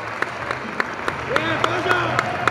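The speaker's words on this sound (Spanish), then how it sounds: "Fuerte el aplauso" Families clapping after a bout at a school boxing event, with sparse sharp claps and a short applause burst over a noisy hall hum, plus a voice talking in the background.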